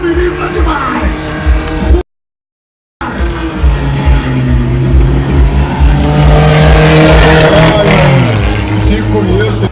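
A car is whipped through a 540-degree handbrake spin at a stunt-driving meet, its engine revving hard and loud with a wavering pitch while voices shout over it.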